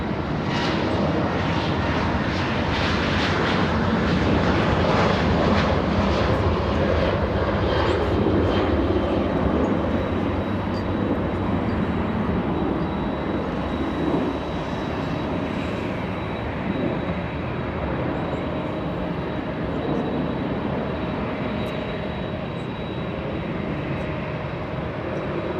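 A Boeing 747 airliner at LAX gives off a sustained, powerful engine roar that swells early and then eases slightly while holding steady, heard alone without speech.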